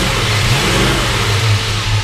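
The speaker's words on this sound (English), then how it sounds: "Go ahead and rev it up a little bit." A 1965 Ford Mustang GT engine revs loudly up close, its deep rumble swelling and easing in a couple of quick throttle blips over a steady idle. No talking.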